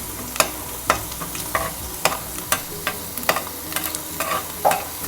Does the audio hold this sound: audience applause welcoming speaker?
no